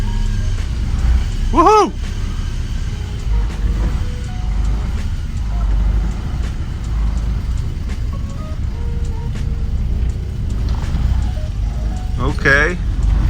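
Volkswagen Passat B4 with a swapped 2.0 AGG engine pulling away in first gear, a steady low engine rumble throughout with a person cheering briefly over it.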